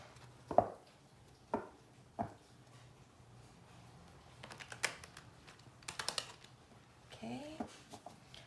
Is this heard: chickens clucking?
no